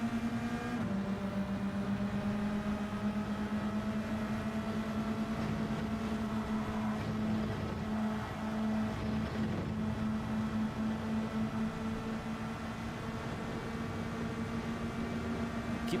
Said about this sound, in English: Keeping this one in 5th until the engine blows up